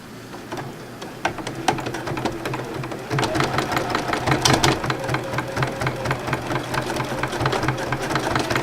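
A sewing machine fitted with an open-toed hopping foot stitches during threadpainting, a rapid mechanical whirring chatter that starts, briefly pauses, then runs faster and louder close by.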